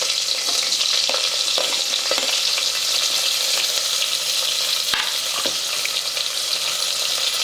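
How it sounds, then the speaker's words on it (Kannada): Long-sliced onions frying loudly in hot oil with spices, a dense continuous sizzle close up, punctuated by occasional stirring clicks and scrapes of a spoon in the pan. "ನಾವು 1-2 ಉಳ್ಳಾಗಡ್ಡಿ ಉದ್ದಕ್ಕೆ ಕಟ್ ಮಾಡ್ಕೊಂಡೆ ಅವು ಹಾಕ್ಕೋತೀನಿ ನೋಡ್ರಿ."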